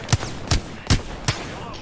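Four evenly spaced shots from a video game shooter ring out in a steady rhythm, each a sharp close crack with a brief fading tail.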